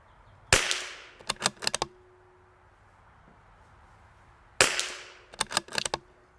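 Rifle shots from a CZ457 fitted with a Pete's Pillars barrel, fired at targets on a range: two groups of sharp cracks, each a loud single shot followed by a rapid cluster of four or five more, separated by a quiet pause.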